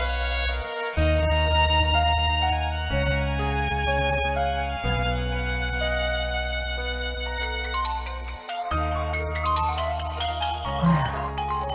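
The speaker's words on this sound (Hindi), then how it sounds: "फोन आ रहा है" A phone ringtone plays a bright, looping electronic melody, loud and close, repeating for several seconds with brief pauses between phrases.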